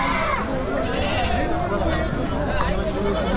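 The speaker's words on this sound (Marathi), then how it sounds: "शेळ्या पण आहे तिकडे." Goats and sheep bleat repeatedly amid the bustle of the large Chakan livestock market in Maharashtra, their wavering calls overlapping with nearby people talking and general crowd noise.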